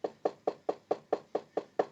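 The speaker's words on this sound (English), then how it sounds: "I'm gonna knock on the door and just do this" Eight evenly spaced knocks on a door, sharp and close, with a steady rhythm and nothing else around them.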